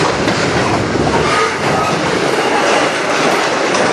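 A train, likely CN number 491, rolls along the track in Sarnia, Ontario, close and loud, with a continuous rumble and rhythmic clickety-clack of wheels throughout.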